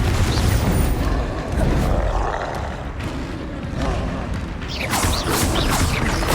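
Confringo fire spell blast in the video game Hogwarts Legacy, a loud roaring, booming burst of fiery crashes and rumble that fills the whole stretch, mixed with other combat spell sounds.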